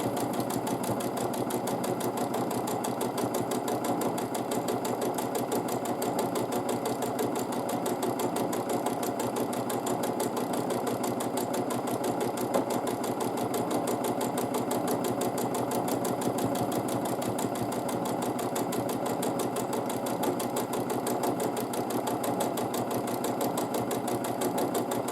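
A sewing machine stitches quilt fabric with a fast, steady rapid-fire clatter that keeps an even rhythm throughout. It sounds close and moderately quiet, and no one talks.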